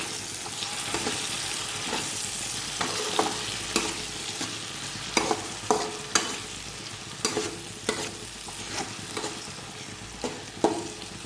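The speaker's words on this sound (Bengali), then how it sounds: "এবার দিয়ে দিব এক চামচ টক দই ভালো করে নেড়ে নেব" A spoon stirs rohu fish curry masala with a spoonful of sour yogurt in a pan, giving repeated scraping strokes at an irregular rhythm over a steady low sizzle, close and moderately loud, with no talking.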